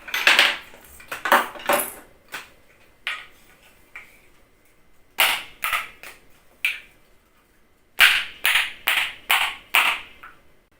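Spoons clacked together as percussion in quick rhythmic bursts of bright metallic clicks, separated by short pauses, loud and close, during a children's music class.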